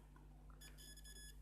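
A cheap digital multimeter gives a short burst of high electronic beeping when its probes touch, faint over a steady low hum, lasting under a second.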